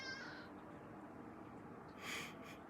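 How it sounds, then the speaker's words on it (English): A pet cat meows indoors: a short cry at the start, then a second brief meow near the end, both fairly faint against a quiet room. "My cat just bit me."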